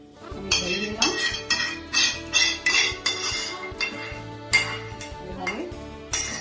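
Metal and ceramic clink sharply and repeatedly as yogurt for mango dahi is poured and scraped into a bowl, a series of close, bright taps at an uneven rhythm.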